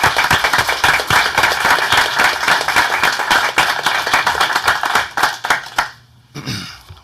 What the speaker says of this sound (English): One more round of applause for our fire department.